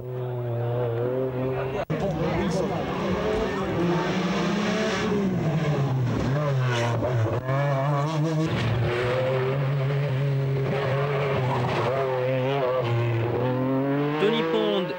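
A 1986 English Group B rally car with a mid-mounted, non-turbo engine and four-wheel drive revs and accelerates at length, its engine note rising and falling under someone speaking French.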